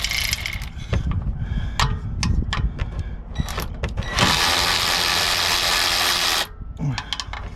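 A ratchet loosens 10 mm oil pan bolts on a 2011 Toyota Sienna, giving close bursts of clicking and mechanical rattling, then a sustained, louder grinding whir for a couple of seconds before tapering into a few scattered clicks.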